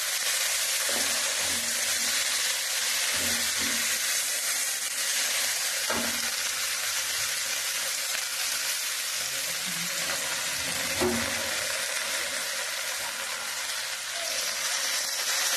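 Gongura sorrel leaves sauté in a pan with a dense, continuous close sizzle, occasional stirring knocks and scrapes breaking through, no talking.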